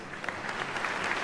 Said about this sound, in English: sometimes there would be applause in the courtroom.